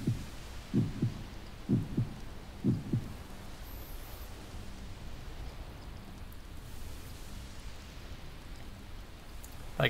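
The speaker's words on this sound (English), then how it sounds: "the heart on the table must be where the heartbeat's coming from" A haunted heartbeat in the Second Life game, coming from a heart on a table: slow, muffled double thumps repeat at a steady pulse for the first few seconds over a soft rain-like hiss, then fade into the hiss alone.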